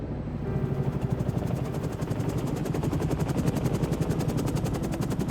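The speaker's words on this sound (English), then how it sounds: "we were overwhelmed by the unmistakable sound of an approaching helicopter" A helicopter approaches with a rapid, even rotor chop that grows stronger and fills the scene, steady and close, with no voices.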